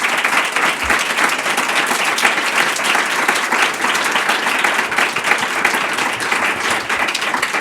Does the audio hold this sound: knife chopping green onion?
no